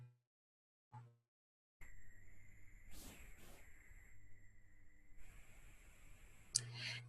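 A computer mouse double-clicks on a desktop: two quick, sharp clicks close together mid-clip, heard over a faint steady electronic hum and soft room noise.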